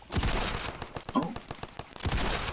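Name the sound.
gunfire from a gun in the video game Ravenfield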